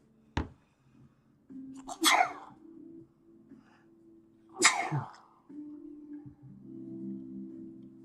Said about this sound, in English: I gotta sneeze. I got a sneeze coming on.